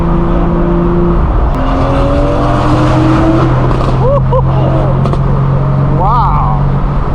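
Several cars rev and pass at a large BMW car meet, including a straight-piped BMW M4 G82 with a loud, raspy exhaust, engines rising and falling under a constant rumble of crowd noise.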